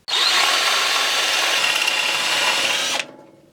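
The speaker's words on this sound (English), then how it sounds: "Almost done with the drilling." Power drill boring into a chainsaw crankshaft to prepare it for tapping, one continuous loud whirring grind lasting about three seconds and then cutting off sharply as the motor spins down.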